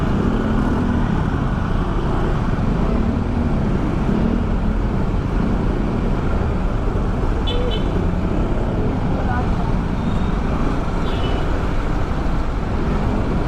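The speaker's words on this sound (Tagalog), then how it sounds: "sobrang traffic dito ngayon" Dense, steady roadway traffic roar fills the scene continuously, with a few brief horn toots poking through around the middle; voices are faintly present under the constant vehicle noise.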